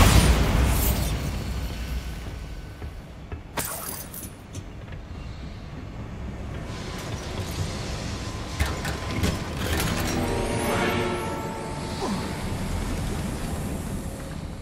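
Bombarda spell explosion in Hogwarts Legacy, a loud boom at the start that fades into a long rumbling tail with scattered bursts and clatter.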